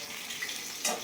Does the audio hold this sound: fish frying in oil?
yes